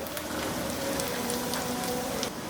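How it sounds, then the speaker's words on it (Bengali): Chopped garlic sizzles in hot oil in a pan for a Nepali bottle gourd greens dish, a steady close crackling hiss with no talking. "এখন এইগুলাকে এর সাথে একটু ভেজে নিতে হবে রসুন গায়ে হালকা একটু বাদামি দাগ লাগা পর্যন্ত"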